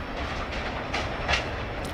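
Railroad cars rolling past at a creek crossing near a railroad boarding house, a steady rumble with faint clicks and squeals, heard from close by.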